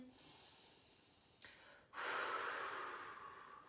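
A slow deep inhale during a relaxation exercise, a short faint breath first, then a longer, louder, airy intake that gradually tapers off.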